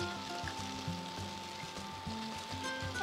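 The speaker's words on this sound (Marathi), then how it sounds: "आता इथे आपण घालूया ताजा वाटाणा." Fresh green peas tossed into sizzling spices in a pot, a soft steady fry with faint stirring, close and continuous with no talk.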